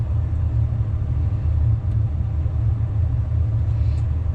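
A car creeps slowly along a snowy rural mountain road, its engine a steady, close low rumble with no change in pace and no voices.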